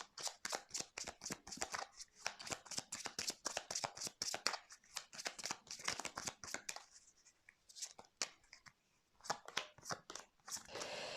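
Cards for a reading are shuffled and handled up close in quick bursts of papery flicks and riffles, with brief pauses between flurries and no voice.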